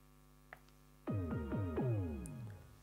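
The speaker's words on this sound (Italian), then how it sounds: "Questo suono indica che le casse si sono accese" Anker A3143 Bluetooth speaker powering on: a faint click, then a clear tone sequence of four descending swooping notes that fade out, heard alone in a quiet room.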